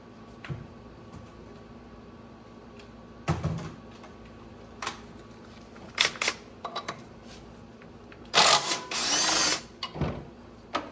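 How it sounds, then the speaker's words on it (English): Wrench work removing 12mm bolts from the primary clutch of a Kawasaki Ridge, scattered metallic clicks and ratchet clatter close up, with a louder burst of rattling near the end. "we'll start by taking our 12mm bolts out right here"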